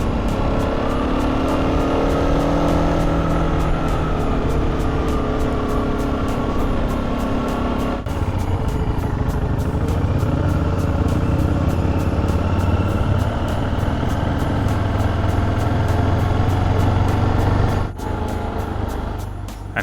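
A BMW F650GS motorcycle rides along a road, picked up by an over-gained helmet microphone: a steady, loud engine drone with shifting pitch and constant buffeting wind noise, plus two brief clicks.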